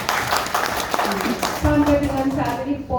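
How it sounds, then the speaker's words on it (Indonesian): Audience of teachers at a PGRI teachers' association conference in Ngawi applauds in a brief burst of dense clapping, steady and fairly loud, with room echo and no voices over it. "Tepuk tangan Bapak Ibu semuanya."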